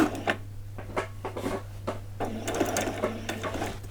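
Sewing machine stitching a scrubs bodice with its lining, close and alone: short bursts of rapid needle clatter with brief pauses between, over a low steady motor hum.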